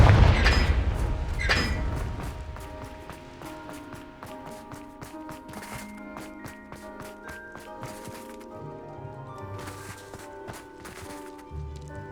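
A Confringo spell bursts loudly in Hogwarts Legacy on PS5. The opening blast and a second hit quickly fade into a lingering ring, and light tapping game sounds and tones follow.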